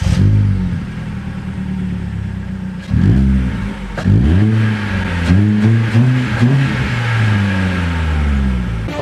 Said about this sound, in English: Let me just give you a little few revs, you know what I'm saying, so you know what it sounds like.